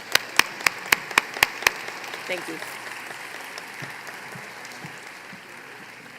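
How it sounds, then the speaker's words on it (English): Audience applause at an awards ceremony: a few sharp, loud claps open it, then a softer wash of clapping continues and fades under a brief spoken thanks. "Let's give her one more round of applause."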